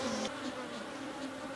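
Honey bees buzz around an opened horizontal hive split, a close, dense droning hum with a few individual bees sweeping past.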